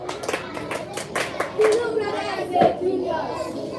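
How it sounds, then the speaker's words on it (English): Classroom children clap for a classmate in quick uneven bursts, with chatter and a teacher's voice running over and between the claps. "Clap for Kulu, brother now."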